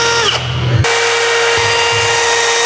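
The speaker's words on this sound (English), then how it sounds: "Once he's done with that, he'll go ahead and do a pilot hole." A power drill runs loud and steady close up while drilling pilot holes in a Jeep Wrangler JL frame during a lift kit install. The motor whines continuously, with a short pitch change near the start.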